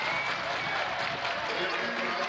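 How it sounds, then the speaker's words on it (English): A basketball arena crowd stands and cheers in the closing seconds of a one-point college game between Green Bay and the Panthers, a loud, constant roar throughout with talk underneath. "This crowd, everybody on their feet."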